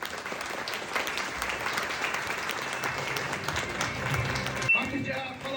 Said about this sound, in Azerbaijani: Gürültülü şəkildə alqışlayaq zəhmət olmasa.